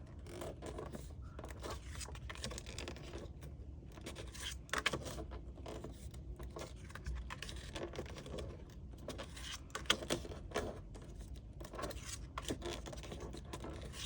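Scored paper being folded back and forth for a DIY tropical palm craft, giving a steady run of soft crinkling, scraping paper sounds throughout, close and fairly quiet with no talk.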